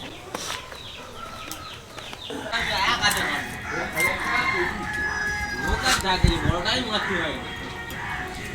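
Kalvert chickens cluck steadily and a rooster crows loudly and close, the calls overlapping in a busy poultry-yard chorus that runs throughout.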